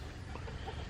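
A rooster in a barn gives low, steady clucking throughout a short moment, close and fairly quiet against a dense, muffled background.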